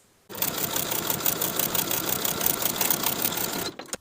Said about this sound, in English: fold the drawstring piece in half right sides together and sew along the long raw edge with a 3/8 inch seam allowance